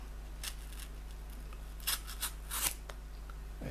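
An Opinel No. 8 Outdoor knife slicing through material in a cutting test, giving a few short, crisp scraping cuts close by, with a cluster of sharper strokes in the middle, quiet otherwise and no talk.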